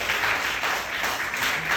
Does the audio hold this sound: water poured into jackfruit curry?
no